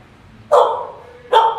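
A dog barks twice close by, each bark sharp and loud, separated by a short pause with faint room noise.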